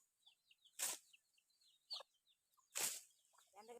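Farm chickens clucking near an outdoor work spot, with two loud, sharp squawks standing out over softer scattered clucks and short calls across a few seconds.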